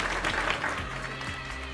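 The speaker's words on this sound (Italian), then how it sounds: "Facciamo un gran bel applauso per Valentina Senigallia." An audience applauds at the Dance Crew Selecta 2013 dance competition, a steady, fairly faint wash of clapping over a low background hum.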